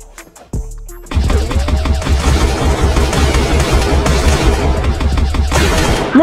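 Gunfire in the online shooter Crossfire, a sudden loud, dense barrage of rapid shots and bangs that starts after a brief quiet opening and keeps going without a break.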